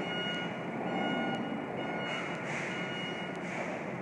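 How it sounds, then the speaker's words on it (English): An unfamiliar electronic alarm sounding outdoors, a faint repeating tone carried over a broad, steady wash of street and city noise, with no voices in the clip. "I have never heard that alarm before"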